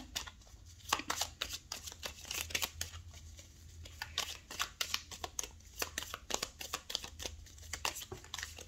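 Tarot cards are shuffled in quick, crisp riffles and flicks, close and fairly quiet, with repeated bursts of card slaps and slides and no talking.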